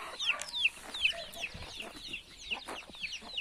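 Blue-egg-laying hens kept for egg production cluck and chirp in a coop, a run of repeated short high calls over a soft background rustle.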